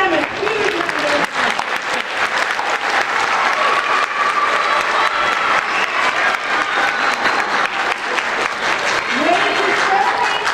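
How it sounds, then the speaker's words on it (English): Applause for a middle school strings program at a school winter concert, a loud, dense wave of clapping from a large audience that is sustained throughout, with cheering and voices mixed in. "Let's give them a huge round of applause."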